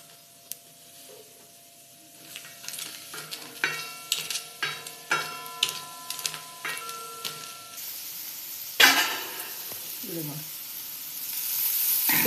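Green chilies frying in a little oil for tomato chutney, heard as a soft sizzle under a run of sharp, regular tapping and scraping strokes, then a louder burst of hiss.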